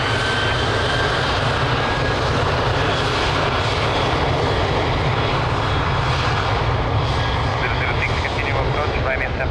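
A jet airliner landing at Lisbon Airport roars loud and steady throughout, a continuous broadband engine rumble with a faint thin whine riding above it.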